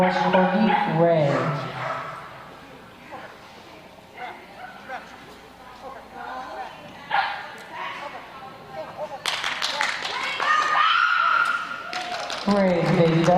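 A Pembroke Welsh Corgi named Ray barks in short, bright bursts at a dog agility championship ring, mixed with a commentator talking and crowd noise.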